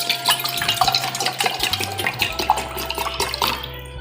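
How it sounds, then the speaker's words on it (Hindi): Water runs into a bottle being filled at home, a steady splashing pour with rising pitch as the bottle fills, close and fairly loud with no talking. "पानी की बोतल मैं भर रही हूँ"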